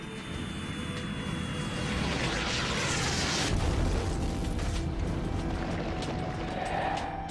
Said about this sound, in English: For about the first 600 million years, comets and asteroids pounded our planet.